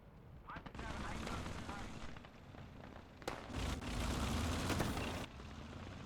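Bursts of gunfire and rattling shots in the World War II game Gates of Hell come in waves over a rumbling battle bed, loud and close in stretches, with some voice mixed in.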